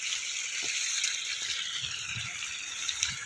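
Water runs along a channel in a farm field: a steady, bright hiss of flowing water with a few faint low knocks and rattles, and no voices.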